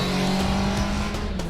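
A motorbike engine starts and runs, giving a steady, fairly loud droning hum with a slight pitch shift and no talk over it.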